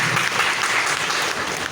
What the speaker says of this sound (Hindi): इनके मतलब डबल ताली होनी चाहिए।